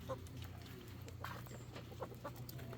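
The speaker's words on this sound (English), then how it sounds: "Here's our chickens." Soft clucking from several chickens nearby, scattered brief calls over a low, steady background rumble.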